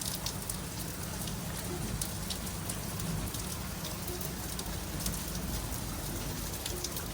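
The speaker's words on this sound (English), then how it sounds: "it was pretty much the heaviest rain in the eastern United States" Heavy rain pours steadily and loudly onto surfaces in the eastern United States, a dense unbroken hiss of drops filling the whole stretch with no voices.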